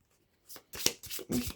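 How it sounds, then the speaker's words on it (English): A deck of playing cards for a solo tabletop mystery game is shuffled in a few quick riffling bursts, close and fairly quiet, with no talking. "give that a good shuffle"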